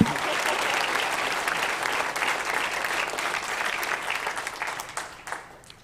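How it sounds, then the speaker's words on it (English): An audience applauds a speaker with dense, steady clapping that carries on for several seconds, then thins out and fades toward the end. "One more round of applause for her."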